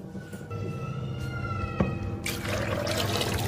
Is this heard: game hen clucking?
no